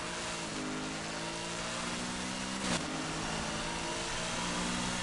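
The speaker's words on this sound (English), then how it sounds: "I'm almost afraid to know what this engine's gonna sound like with the turbo on it." A turbocharged car engine in the racing game Need for Speed Heat hums and revs steadily with a sustained tonal drone and whine, a brief spike partway through, and no talking.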